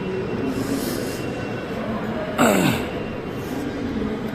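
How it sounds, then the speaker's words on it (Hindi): A Lucknow Metro train arrives at the station, with a steady rumble and a rising, sliding wheel squeal partway through, heard close and fairly loud. "लखनऊ मेट्रो"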